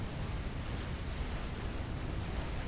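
Oblivion artillery in a real-time strategy match pounds a wall with a dense, continuous low rumble of explosions, loud and steady throughout with no distinct gaps.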